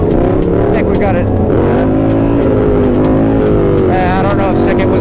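A pickup truck engine revs hard and rises and falls through gear changes, then winds down under engine braking, loud and close, with people talking over it.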